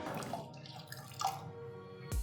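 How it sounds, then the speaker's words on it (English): Water poured into toor dal for pressure cooking, a soft running and splashing trickle close by that ends in a brief thud. "Add 4 cups of water to cook the dal."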